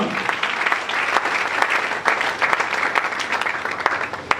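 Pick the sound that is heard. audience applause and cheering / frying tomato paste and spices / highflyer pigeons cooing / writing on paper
audience applause and cheering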